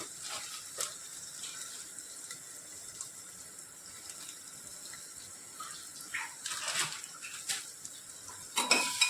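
Masala rice being sautéed and stirred in a pan with salt going in, light scraping and clinks of a spoon against metal with sizzling, mostly steady with clusters of sharper clatter near the end, no voices.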